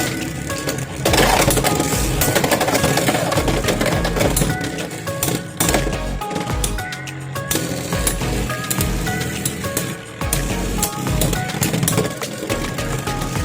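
Beyblade X spinning tops battling in a stadium, Lance Knight against Obi-Wan, a loud continuous metallic rattle and clatter of plastic and metal tops colliding and grinding, dense and close throughout.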